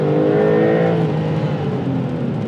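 Porsche 911 pulling away gently on a wet, rainy road, its engine note rising smoothly and steadily up close with a soft tyre hiss and no voices.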